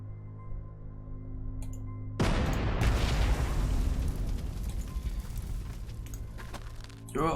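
Artillery fire in the World War II strategy game Panzer Corps 2: a sudden loud boom breaks over a steady low hum and rolls on as a long rumbling blast for several seconds.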